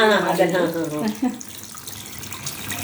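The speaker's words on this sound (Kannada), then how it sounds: "ಇದು ಒಂದು ವಾಟರ್ ಫಾಲ್ಸ್ ಸರ್" Water pours steadily through a handmade model waterfall built from waste paper at a home display, a continuous close splashing rush, with someone speaking briefly over the start.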